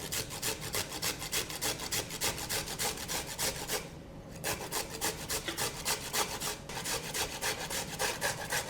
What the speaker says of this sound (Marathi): आता गाजर पण किसायचं